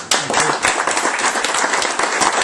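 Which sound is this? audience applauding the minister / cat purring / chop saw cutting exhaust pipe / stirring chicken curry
audience applauding the minister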